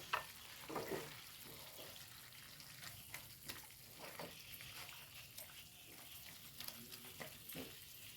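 Green chilies frying with bitter gourd in a pan for a Kerala pachadi, a soft steady sizzle with occasional scraping stirs and light clinks, fairly quiet and close.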